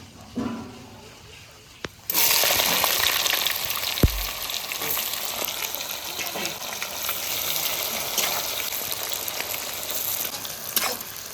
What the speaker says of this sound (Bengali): আমার তেল গরম হয়ে গেছে, এবার ফোড়নে দেব গোটা গরম মশলা, জিরে, তেজপাতা, শুকনো লঙ্কা। এবার দেবো পেঁয়াজ।